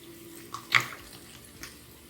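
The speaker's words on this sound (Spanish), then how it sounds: "voy a ponerle agua para aprovechar toda la crema, todo. Y empezar a lavar el traste." Tap water runs briefly into a cream-coated dish being rinsed in a kitchen, a soft splashing burst in the middle with quieter trickles around it.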